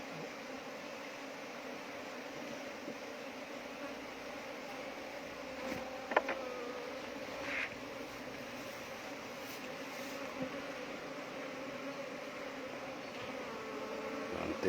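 A bee colony being moved, a soft continuous buzzing drone held steady throughout, faint and close, with a couple of brief clicks and knocks.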